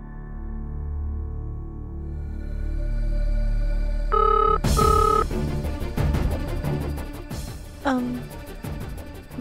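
A telephone rings unanswered in two short electronic bursts, followed by clattering and a voice speaking nearby.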